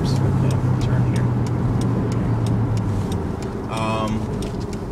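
A 1999 Chevrolet Corvette C5 Convertible drives with a steady engine hum and road noise, with a brief change in engine tone as it shifts into second gear; a person talks over it.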